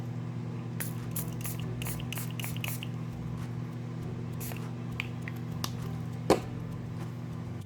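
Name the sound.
spray bottle spraying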